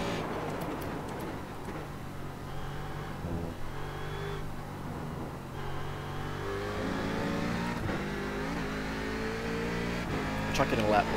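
Chevrolet Corvette C7 DP race car engine in the iRacing simulator at Road Atlanta, a steady, loud interior engine drone with rising revs and gear changes. The driver talks over it.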